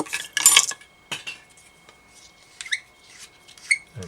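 Small metallic clicks and scrapes as a hook is clamped into a fly-tying vise for an articulated rat pike fly, a few quick close taps followed by softer sparse ticks.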